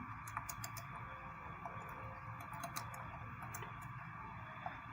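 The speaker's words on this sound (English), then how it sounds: "Double click on it, type your company name." Keystrokes on a computer keyboard while entering a company name in a design tool, a quick run of light clicks in several bursts over a steady low background hum, fairly faint and close.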